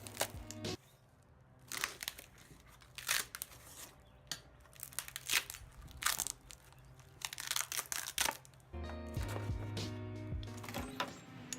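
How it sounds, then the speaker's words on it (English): Cardboard crackles and tears as it is peeled off a cast polyester resin bowl, a run of close, dry crinkling rips and pops with short pauses, no voices. "eventually I was able to get the cardboard all off at once. It makes a really satisfying noise"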